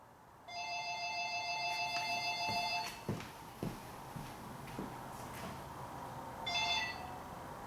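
An electronic phone ringtone trills for a few seconds, gives way to a few soft thumps and clicks, then starts ringing again.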